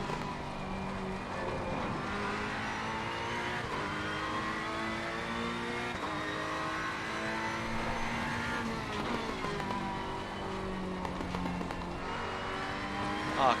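Race car engine in a racing video game during a qualifying lap, a steady loud whine rising and falling through gear changes for the whole stretch, with no talking over it.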